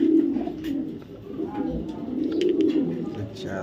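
A 2023 club racing pigeon cooing close by, low rolling coos that swell and fade in a steady rhythm, with faint background murmur.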